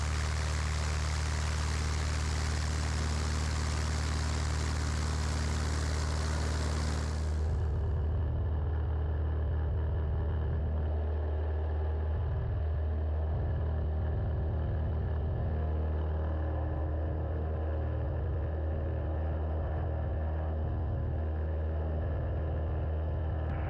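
A propeller airplane roars at full power on takeoff from runway 32 at Natashquan, then the sound thins and settles into a steadier, duller cabin drone as it climbs away, with no voices.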